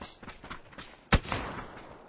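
Gunfire in an online shooter video game, scattered distant pops followed by one sharp, loud shot and a brief rattle of follow-up fire fading out.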